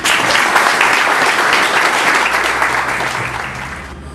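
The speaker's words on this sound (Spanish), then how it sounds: "ya les pido un aplauso de adelanto" Audience at a 30th anniversary commemoration gives a loud, sustained round of applause that gradually fades toward the end.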